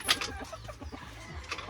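A rooster gives short, nearby clucks and calls in quick succession around a rural home, the sounds distinct and alone with no talk over them.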